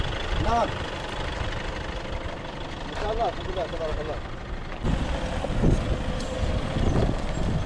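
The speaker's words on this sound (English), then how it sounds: "Oh, it's an air pump." An air pump runs with a steady, rough mechanical drone at a campsite on a desert road trip to Ouadane, Mauritania, while people talk over it throughout.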